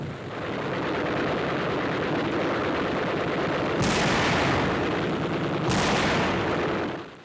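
Gunfire and artillery from 1945 combat as tanks and infantry clear Japanese machine gun emplacements outside Iloilo; a dense, continuous roar of battle noise with two sharper, brighter bursts standing out near the end.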